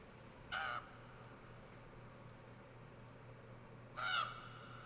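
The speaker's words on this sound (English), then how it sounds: "I would be so scared of crows after this." Two crows caw in The Last Door video game, each a short, hoarse burst about three and a half seconds apart, standing out clearly over a quiet, steady background hum.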